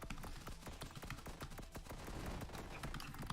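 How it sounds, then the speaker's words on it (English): Rapid minigun spell shots in the video game One Step From Eden fire in quick, sharp bursts of clicky impacts, continuous and fairly quiet throughout, with no talking. "This spell, the minigun that I have, is great because"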